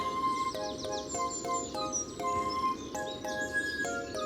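Small birds chirp in a quick, repeating pattern of short tweets over a soft background hiss, moderately close.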